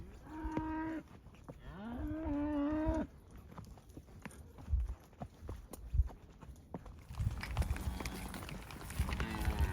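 Cattle being herded out of arroyos and trees moo loudly in two long drawn calls, followed by hoof clatter and rustling movement, with a person calling out to the herd in between.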